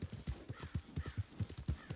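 Horse hooves clip-clopping at a steady walking rhythm in a Western video game, the horse carrying a heavy load of gold, each hoof strike close, clear and evenly spaced.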